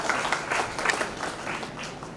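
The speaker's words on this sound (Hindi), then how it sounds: "तो तालियों के साथ बहुत स्वागत करें।" Brief burst of audience applause welcoming a guest onto the stage at a national executive committee meeting, moderately distant and steady for about two seconds.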